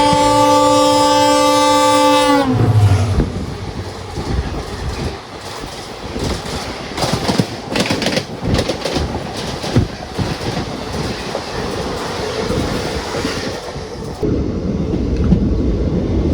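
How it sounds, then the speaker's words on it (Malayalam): An Intercity express train on the Mysore to Chikkamagaluru route arriving, its horn blaring loudly for a couple of seconds before a heavy rumbling roar with rhythmic clickety-clack of wheels passes close by. "മൈസൂരിൽ നിന്ന് തലകുപ്പൊക്കെ വന്ന് ഇന്റർസിറ്റി വരുന്നുണ്ട്"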